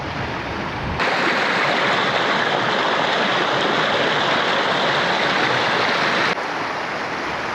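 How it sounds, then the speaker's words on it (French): A yellow-ochre river in Argentina rushes steadily, a loud, dense and continuous wash of flowing water close by with no voices over it. "nous sommes sur un lieu assez particulier, avec une rivière jaune"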